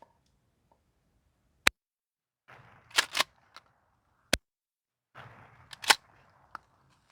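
Two more rounds fired at an old fridge: sharp isolated gunshot cracks spaced a second or two apart, some doubled or echoing, set against a quiet outdoor background, with no talk.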